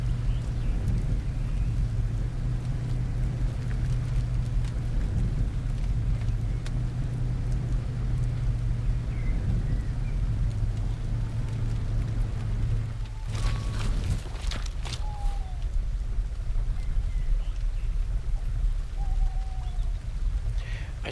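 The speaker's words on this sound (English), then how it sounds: "this save, it just like rains continually. It's like every day it rains." Steady rain falls in the video game Lumberjack's Dynasty, a constant wash of patter over a low hum, with a few brief clicks and tones breaking in partway through.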